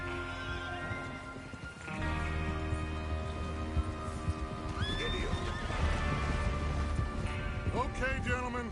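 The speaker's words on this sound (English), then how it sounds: "Get your horses ready." Horses in the Red Dead Redemption video game whinny and neigh over a steady clip-clop of hooves, with a game soundtrack and faint voices underneath, the calls loud and close.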